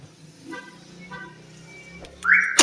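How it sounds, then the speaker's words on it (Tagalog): Toyota Vios central lock alarm chirps as the car locks: a short, loud electronic tone bursts out near the end after quieter mechanical clicks, heard close up. "Palit ng central lock at check din ng turning signal ng alarm."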